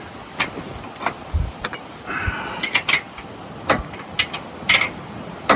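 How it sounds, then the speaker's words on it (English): A wrench tightens a bolt on an electric trailer jack, giving a series of short metallic clicks and ratcheting taps, spaced irregularly and heard up close with no talking. "And I can use the wrench to tighten it."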